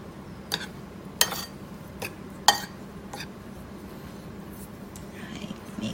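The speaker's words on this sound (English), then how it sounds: "we mix the flour and the salt" Flour and salt for play dough are stirred together in a bowl, with a handful of sharp clinks and scrapes of a utensil against the bowl over a quiet background.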